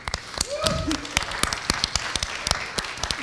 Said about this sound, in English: a big round of applause to this room, everybody in this room